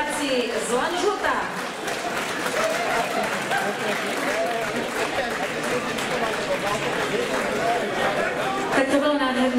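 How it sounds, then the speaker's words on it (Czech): An audience applauds the men's singing group from Lanžhot with steady, dense clapping mixed with crowd chatter and cheering, sustained throughout and moderately loud. "velký potlesk pro tyto skvělé mužské hlasy"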